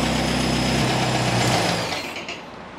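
Air-cooled Volkswagen engine with a Solex H30/31 PICT carburetor idles steadily at close range, a low even rumble, then is switched off and winds down to near silence over the final half second.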